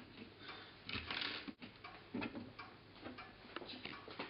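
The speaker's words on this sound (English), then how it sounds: "And here you have the clock back in good condition." A repaired battery-powered station clock ticks softly and steadily at close range, regular light clicks over a quiet hiss of room noise.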